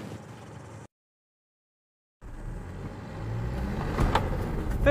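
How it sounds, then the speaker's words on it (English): From inside a Mitsubishi Pajero Sport driving in 4-wheel drive on a gravel road, steady road and tyre rumble is heard. It cuts out to silence for over a second, then returns and grows louder and rougher. "Now we found some gravel road, so let's see what this baby will do in 4-wheel drive."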